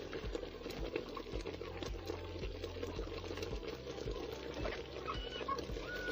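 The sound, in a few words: pot boiling over a village cooking fire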